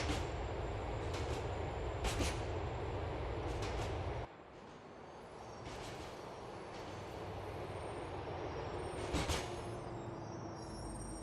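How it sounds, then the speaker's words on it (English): In the video game GTA IV, a subway train rolls toward San Quentin Avenue Station with a continuous rumbling ride noise and a few clanks. The sound shifts partway through as the train slows on its approach. "The train is approaching San Quentin Avenue Station."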